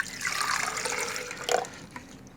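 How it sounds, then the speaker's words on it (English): Water poured into a pot for cooking pasta, a brief splashing gush that swells and then trails off, close and moderately loud. "So we're gonna add water."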